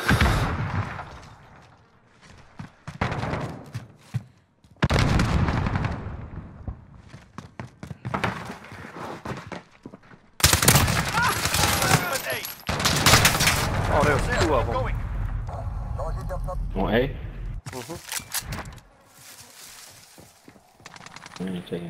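Shots and impacts during a Call of Duty: Modern Warfare multiplayer match, irregular loud bursts scattered through the action, with players talking over much of it.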